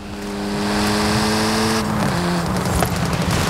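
Car engine in the racing game Forza Horizon 5 revs with steady harmonic tones, holds, then drops in pitch near the middle as it shifts, staying loud and continuous throughout, with no one talking.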